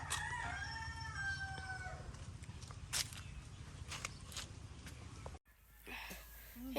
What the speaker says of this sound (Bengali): দিদির ঘরে মুরগিগুলো কি চিৎকার করছে